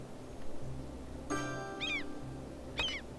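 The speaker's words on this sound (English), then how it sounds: "I apologize if you can hear my cat." A pet cat meows twice, close and clear, with short rising-falling cries over a low background hum.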